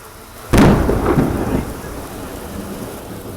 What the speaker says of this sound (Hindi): इतनी भारी बारिश हो रही है यहाँ पे।